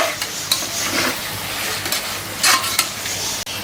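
Mutton pieces stirred and browned in a hot pan for seeraga samba biryani, with a steady close sizzle and scraping stirs, and a few sharp clinks of a spoon against the pan.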